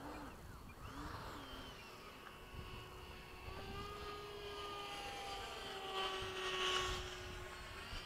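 An RC F-5 jet with a ducted fan comes in to land, its whining tone shifting in pitch as it passes, moderately distant and growing louder toward the end over an outdoor background.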